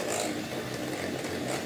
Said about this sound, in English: I'm using a handhold electric mixer